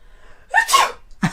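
A girl lets out a single close sneeze, a sharp intake followed by a burst, then a brief breathy sound after.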